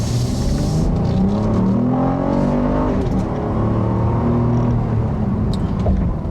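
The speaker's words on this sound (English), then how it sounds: "when you get on the throttle, this car's engine still makes that trademark Honda VTEC growl" A 2014 Acura MDX SH-AWD's Honda V6 revs hard under throttle, a loud, continuous engine growl whose pitch climbs and shifts through the rev range, heard from inside the car.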